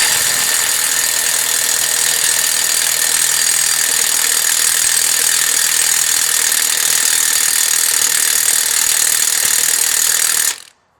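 A Milwaukee Fuel 3/4 inch 2864 impact wrench tightens a nut in one long, loud, steady hammering burst lasting about ten seconds, then stops abruptly.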